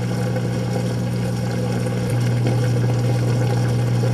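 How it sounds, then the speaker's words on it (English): A Kenmore top-load washer drains wash water through its hose with a steady droning pump hum and faint water rush. Partway through, the pitch shifts slightly and then holds constant, close and with no talking. "Let's listen to normal drain sounds."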